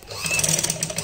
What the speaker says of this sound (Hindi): सिर्फ सेंटर में जो वी कट दिया हुआ है वहां पे सिलाई करेंगे